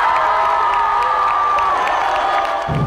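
A big festival crowd of over 20,000 at a Chilean rock festival cheers, whoops and applauds continuously and loudly, a steady roar of voices and clapping with no break.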